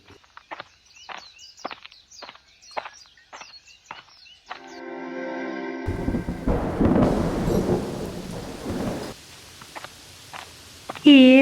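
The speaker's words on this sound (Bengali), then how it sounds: "বাবা বৃষ্টি এলো যে তাড়াতাড়ি বাড়ি ফিরতে হবে" Steady rain noise sets in partway through, following earlier chirpy bird-like calls and a burst of patterned tones, with rumbling underneath.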